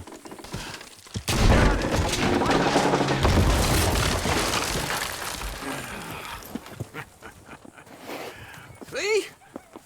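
Horses haul a wooden structure down in the Red Dead Redemption 2 game world, and it collapses with a loud, sustained crash of rumbling booms and splintering debris. The noise fades over several seconds, and voices speak afterward.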